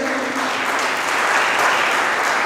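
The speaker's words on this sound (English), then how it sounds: "Let's give a clap offering to the Lord" Dense, loud applause from a large audience at a church Life in the Spirit Seminar, continuous clapping filling the whole stretch without pause.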